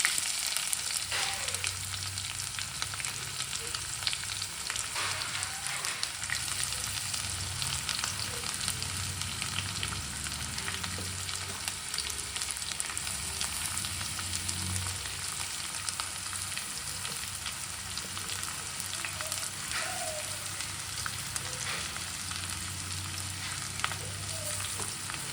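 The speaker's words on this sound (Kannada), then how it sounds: "ಈಗ ಇದನ್ನು ಫ್ರೈ ಮಾಡ್ಕೊಳ್ಳಿ." Onions for a chicken gravy fry in a pan with mint, a constant dense sizzle with faint stirring scrapes throughout, close and steady.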